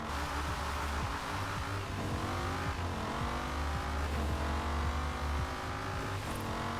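A race car engine in the video game Forza Horizon 4 revs and roars continuously at close range during a drag race, its pitch rising and falling through shifts, loud and steady with no voices.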